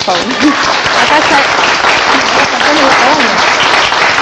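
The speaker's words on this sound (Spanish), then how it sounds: "Pido un aplauso para ellos" Audience applause for contest winners at a lively Peruvian music show, loud and continuous while a voice speaks over the clapping.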